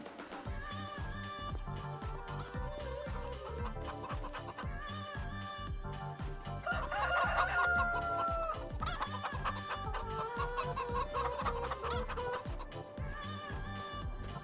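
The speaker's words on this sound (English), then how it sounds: "there's now 250 baby chicks in there" Baby chicks and chickens in the Farming Simulator 25 video game cluck and cheep in a dense, continuous flock chatter, with a crowing-like call rising midway over the steady background.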